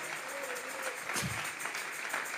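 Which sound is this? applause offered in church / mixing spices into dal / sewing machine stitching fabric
applause offered in church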